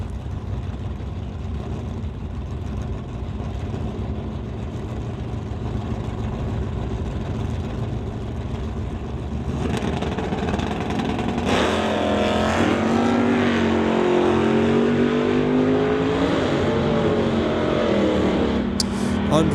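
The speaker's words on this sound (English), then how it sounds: "David driving the 80 Malibu and Glenn driving a 72 Vega." A 1980 Malibu and a 1972 Vega drag race down the strip at an NHRA Summit ET event, a steady loud engine roar that swells midway into a higher, rising howl as the cars accelerate away.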